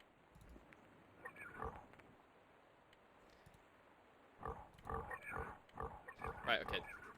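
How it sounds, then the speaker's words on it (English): Pigs in the video game Settlers 2 oink in short grunting bursts, sparse at first and then a busier, louder cluster near the end, set against a faint steady game background. "Oh my god, the pigs."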